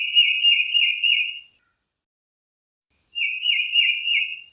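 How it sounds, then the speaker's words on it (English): A tufted titmouse sings two clear whistled phrases, each made of three quick repeated notes. A silent gap of about a second and a half separates the two phrases, and the bird sounds close and alone. "the mnemonic that many people use to remember the tufted titmouse song is Peter"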